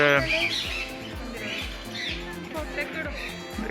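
Parrot-like birds at Bannerghatta squawk in repeated harsh calls, fairly near, with people's voices murmuring underneath.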